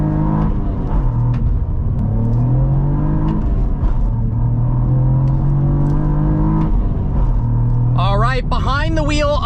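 A 2024 Cadillac CT4-V Blackwing with a manual gearbox accelerates hard, its engine note climbing repeatedly through the gears in a loud, continuous roar, with a brief voice near the end.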